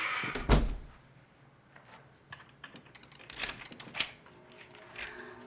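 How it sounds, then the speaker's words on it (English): A door shuts with a sharp knock, then quieter clicks and rattles follow as it is locked, with faint handling sounds trailing after. "You locked the door."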